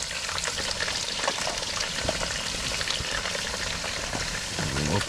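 Pheasant kuyrdak meat fries in a pan with a dense, continuous, close-up sizzle and occasional stirring. A brief voice cuts in near the end.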